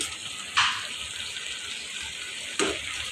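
Raw mango pickle cooking in a pan without water begins to bubble and sizzle softly, with a steady low hiss and two brief louder stirring scrapes.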